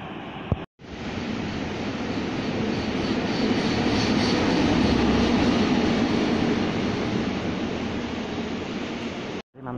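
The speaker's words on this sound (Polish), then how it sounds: "Mamy także standardowo właściwie Elf kolei podkarpackich oraz Newaga o numerze taborowym EN79002" A Newag Impuls electric multiple unit train passes close by, a loud, steady roar of wheels and motors holding for most of the stretch before cutting off abruptly, with no voices.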